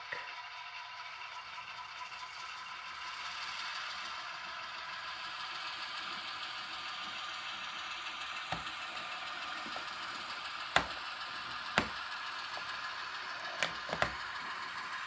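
Long Island Rail Road locomotive engine idling in a steady, even drone with a broad hiss, and a few sharp clicks near the end.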